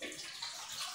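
Water pours into a sufuria cooking pot for boiling, a steady, close splashing rush that fills the short moment without pause or voices.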